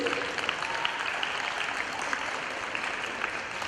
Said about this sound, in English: let's give these ballers a round of applause, please